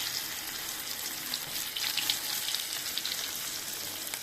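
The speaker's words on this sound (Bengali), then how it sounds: "এই পেঁয়াজের সাথে হচ্ছে আমি বোম্বা মরিচটা ভেজে নিচ্ছি" Onions and bombay chilies frying in a kadai, giving a dense, continuous hiss of sizzling oil with faint crackles and stirring scrapes mixed in.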